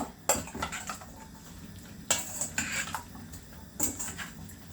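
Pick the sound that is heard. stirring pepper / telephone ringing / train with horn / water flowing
stirring pepper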